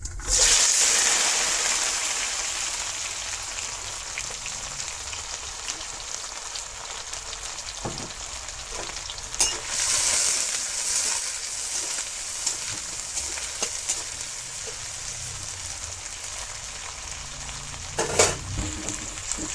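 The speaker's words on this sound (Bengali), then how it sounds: "এখন তেলটা গরম হয়েছে পেঁয়াজটা ছাড়িয়ে দিন" Chopped onions tossed into hot oil for a rural Bengali vegetarian dish, sizzling and crackling steadily and loud up close, with occasional stirring clatters and a sharper burst of spitting near the end.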